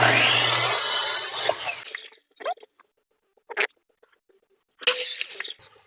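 A power miter saw cuts two wood pieces at 45 degrees: a loud whine and bite through the wood, then the blade spins down, with short rattles and a second cut starting near the end.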